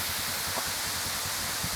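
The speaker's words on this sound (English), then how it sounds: "Nice waterfall" Steady, broadband rushing of a waterfall on the Big Bend river trip, a constant wash of falling water with a low rumble and no voices over it.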